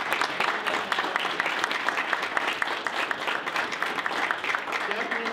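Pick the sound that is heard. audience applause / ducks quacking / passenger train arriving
audience applause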